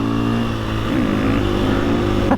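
A motorcycle engine held at a high, steady rev during a wheelie, loud and close, with a brief pitch shift near the end.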